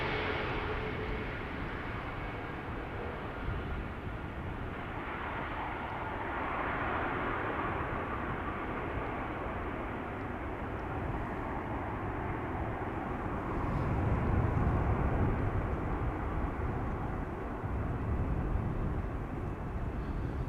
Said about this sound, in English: Tax A is coming in, the first A321 Neo of KLM flying in from Paris Charles de Gaulle.